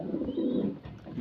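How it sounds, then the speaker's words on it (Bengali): Danish breed pigeons coo in a soft, continuous low murmur with a faint higher call partway through, close by and steady, with no talking. "একদম ফুল অ্যাক্টিভ কবুতরগুলো দেখেন"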